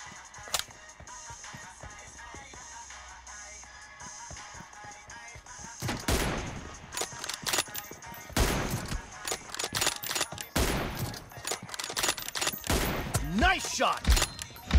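Rapid gunfire bursts from a video game shooter, loud and dense in the second half, some shots arriving as quick volleys with thuds between, while players call out to each other over it.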